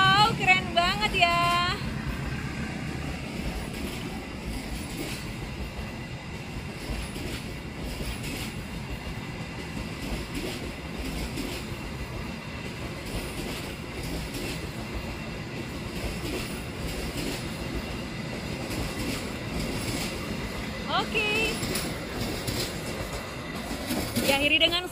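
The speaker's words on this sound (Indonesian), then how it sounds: "Diakhiri dengan semboyan 21 kereta api Lodaya tujuan Bandung dari Solo." The Lodaya passenger train to Bandung rumbles past at Cibatu station, Indonesia, with a steady rolling clatter of wheels and brief high squeals, while people talk nearby over the noise.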